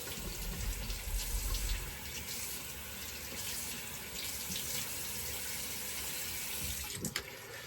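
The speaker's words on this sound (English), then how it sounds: "let me just wet the face and rinse real quick" A bathroom tap runs steadily into the sink while a freshly shaved face is wetted and rinsed, a close, continuous splashing flow with a couple of sharper splashes near the end.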